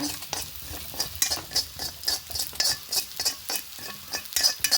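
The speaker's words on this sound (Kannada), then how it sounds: "ಅಕ್ಕಿ ಹಾಕೊಂಡಿದೆ, ಅದನ್ನು ಸ್ವಲ್ಪ ಡ್ರೈ ರೋಸ್ಟ್ ಮಾಡ್ಕೊಂಬ" Rice dry-roasting in a pan for tomato sambar, stirred with a utensil: rhythmic scraping strokes over a light crackling sizzle, close and moderately loud, with no voices.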